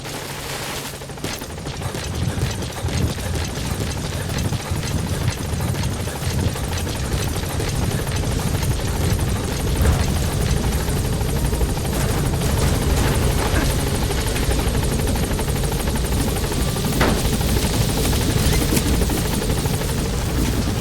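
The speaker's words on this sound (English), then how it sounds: "Support helicopter has arrived." A support helicopter in the video game Metal Gear Solid V thuds loudly and continuously, rotor chop dominating throughout, with bursts of gunfire and other game effects mixed in.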